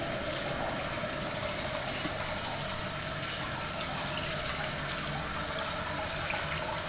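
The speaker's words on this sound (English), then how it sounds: "And the water that's coming out of it is just a very steady flow." A steady, quiet stream of water runs from a still in an even, unbroken trickle, with a faint constant hum behind it.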